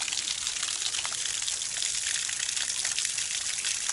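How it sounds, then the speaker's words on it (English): A waterfall in a wilderness area near a log cabin makes a steady, broad rushing roar that carries evenly throughout, with no voices. "we have waterfalls in our area"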